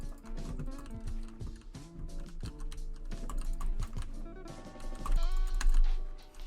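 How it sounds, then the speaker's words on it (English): Rapid keyboard and mouse clicks rattle out in quick irregular bursts while building in Fortnite, close and crisp over faint game sounds and background music. "I'm legit clicking through every single piece there"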